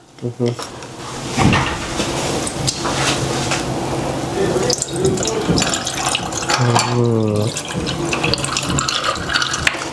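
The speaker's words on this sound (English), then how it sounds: "So we got our chilled sorrel here. Now I'm getting ready to pour." Chilled sorrel drink poured into a glass, giving a steady liquid splash and trickle that runs under nearby conversation and light kitchen handling noises.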